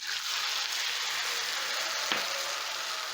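Onions sizzling in a pan as they start to brown, a steady hiss of frying that goes on alone with one small clink partway through.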